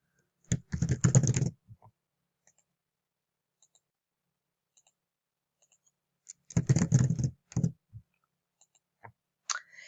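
Names being typed on a computer keyboard while entering them into a Flutter app: two separate bursts of quick, close key clicks with silence between them and a few stray taps.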